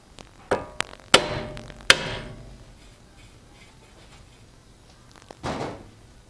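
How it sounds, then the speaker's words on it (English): Several sharp metallic hammer strikes on a Toyota Camry wheel bearing assembly, uneven, two loud ringing blows, then quiet and one more duller knock. "What I can do is you can hit it with a hammer."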